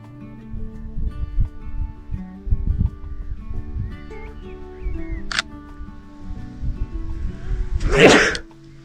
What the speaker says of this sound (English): Sneezing doesn't help.